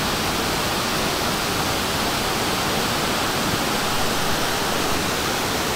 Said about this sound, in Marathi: तर मस्त वॉटरफॉल आहे.